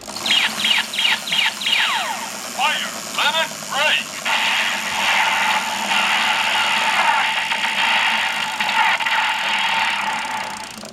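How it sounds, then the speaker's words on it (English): Electronic sound effect from a Kamen Rider Fourze DX Meteor Driver toy belt limit break: a burst of quick chirping beeps, then a sustained buzzing, crackling roar that fades out near the end. "that standby limit break sound just does a fiery kind of something destroying or something burning up sound"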